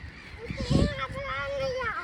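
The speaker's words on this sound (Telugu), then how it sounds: "బోల్డ్ బర్డ్స్ ఉన్నాయి. బర్డ్స్ బోల్డ్ ఉన్నాయి రా." Goose- or duck-like honks rise over a busy background with people talking nearby at a lake in Stockholm; the calls are brief and somewhat distant.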